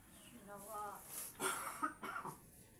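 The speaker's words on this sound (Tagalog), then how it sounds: "huwag nyo lang pakinggan yung inuubo ko" A person coughs several times in quick rough bursts, close by, after a stretch of speech.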